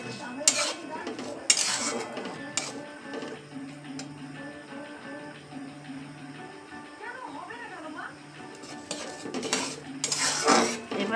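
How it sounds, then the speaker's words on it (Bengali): A spoon stirs rice-flour palm pitha batter with added salt in a pot, making repeated metallic scrapes and clinks with sharper knocks at the start and end, near and fairly loud, with a voice talking in between. "দিয়ে ভালো করে নেড়ে নিচ্ছি"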